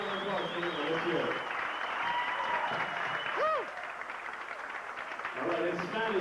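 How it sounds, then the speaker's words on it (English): Wedding reception guests applauding in a steady, full wash of clapping, with a voice and a brief whistle-like tone sounding over it. "So let's have a nice round of applause for you"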